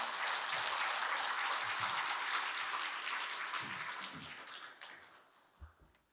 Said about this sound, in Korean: 우리 선교사님 나오실 때 박수로 환영해 주시기 바랍니다.